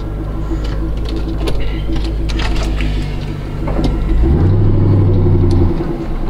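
A 5.7-litre car engine rumbles deep and loud while driving, the low drone rising into a stronger revving hum near the end, heard from inside the car without talking.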